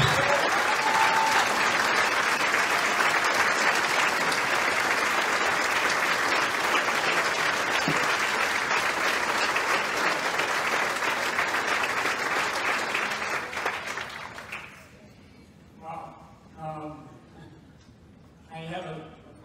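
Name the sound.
audience applause at political event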